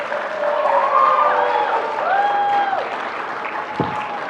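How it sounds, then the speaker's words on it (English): An audience claps at a senior baccalaureate service, a steady round of applause with whistles and cheers rising over it and one sharp knock near the end. "give her a round of applause"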